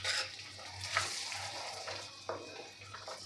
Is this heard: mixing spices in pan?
yes